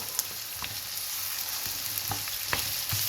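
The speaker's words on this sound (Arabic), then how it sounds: "انا بس هخلي البصل كده يدبل بس" Onions softening in a frying pan for stuffed grape leaves, sizzling as a steady hiss with a few scattered spoon taps, close and even throughout.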